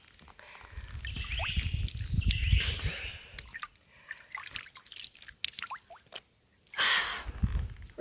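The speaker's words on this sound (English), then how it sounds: "splashing my face with a little bit of this water" Water splashes and drips close by in a few quick bursts, with wet trickling and a soft breath between splashes.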